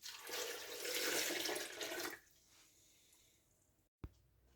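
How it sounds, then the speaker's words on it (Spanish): Half a litre of water pours into a food processor filled with loquat fruit, a close, bright splashing stream lasting about two seconds, followed by quiet and a single sharp clunk. "Ahora le agregamos medio litro de agua."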